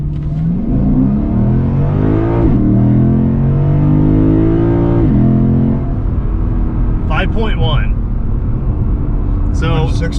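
2022 Lexus IS 500 V8 launching hard from a stop in Sport Plus mode, loud engine note climbing through several gear changes, then settling to a cabin drone while people talk inside.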